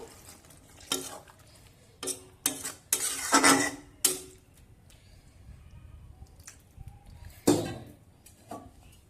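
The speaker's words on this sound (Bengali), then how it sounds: "সব কিছু মিশিয়ে নিয়ে ঢাকা দিয়ে দু মিনিট কষিয়ে নেব" Dahi bhindi, an okra masala, being stirred and fried in a pan, with scattered scrapes and knocks of a spoon against the metal over a faint sizzle, in irregular bursts.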